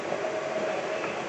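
A train rumbles along steadily in the video game Call of Duty Vanguard, a dense continuous roar of rolling wheels with a faint tonal whine, close and unbroken.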